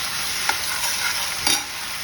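Vegetables sautéing with spicy chutney on a pan for Mumbai street-style tawa pulao, a bright, even sizzle marked by two distinct spatula scrapes about a second apart, with no voices.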